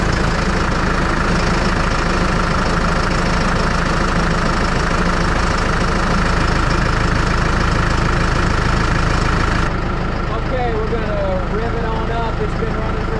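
A tractor engine idles with a steady, knocking rumble, loud and close, after a no-crank electrical problem; the sound thins near the end as a voice speaks over it.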